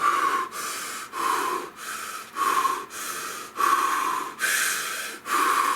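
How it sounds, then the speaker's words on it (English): A person takes a series of forceful, rhythmic breaths close to the microphone, about eight strong inhale-and-exhale cycles in a steady pattern with short pauses between them, with no talking. "Nice deep breath. Air breath."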